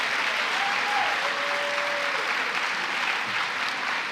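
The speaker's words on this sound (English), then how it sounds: "Please join me in one more round of applause for all of these extraordinary Bobcats." Sustained applause from an audience at a university alumni awards ceremony, a broad even roar of clapping filling the hall at moderate loudness with no pauses.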